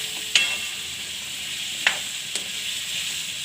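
Shaakar teti (melon) curry cooking in hot oil makes a steady soft sizzle, broken by three sharp clicks or taps of a utensil against the pan.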